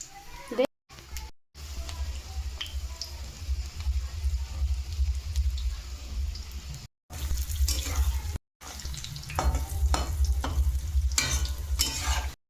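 Small pickle pakoras fry in hot oil with a continuous close sizzle, mixed with stirring and watery bubbling, while a voice speaks intermittently and the sound briefly cuts out a few times.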